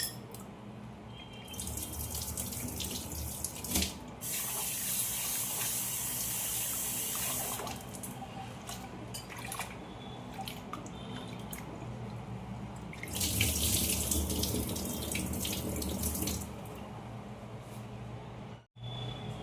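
Tap water runs into a bowl of Gobindobhog rice as the grains are washed, a steady hissing stream in two long bursts with splashing and rinsing between them, close by, with no speech.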